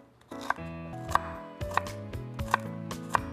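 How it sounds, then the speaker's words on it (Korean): Watermelon being cut into small pieces with a knife on a cutting board, five crisp, evenly spaced chops with soft slicing between, close and clear, no speech. "맛있는 수박을 소스니까 예쁘게 조그맣게 썰게요"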